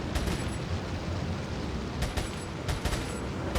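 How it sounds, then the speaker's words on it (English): An upgraded machine gun in Resident Evil 4 fires steadily, a constant, muffled rattle of rapid shots under a dense wash of noise, with a few sharper cracks standing out. "this is the perfect time to use my upgraded machine gun"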